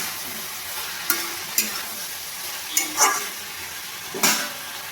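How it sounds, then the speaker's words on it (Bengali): Ivy gourd frying in a pan with turmeric and coriander powder: a soft, continuous sizzle broken by four or five sharp, close scrapes of a spatula stirring the pieces. "হলুদ গুঁড়ো আর ধনে গুঁড়ো দিয়ে আমি ভালো করে আবার কুঁদরিটাকে ভেজে নেব।"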